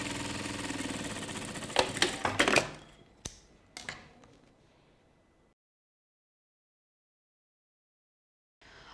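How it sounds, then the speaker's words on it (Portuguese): A sewing machine topstitches bag straps on synthetic leather: a close, steady mechanical run for about two seconds, then a few sharp clicks and knocks, followed by silence. "eu vou fazer, tá, o pesponto aí nas 2 alcinhas"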